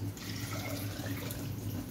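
Hot water pours steadily from a tap onto lentils in a kitchen while Egyptian koshari is prepared, a constant close splashing stream with no talking.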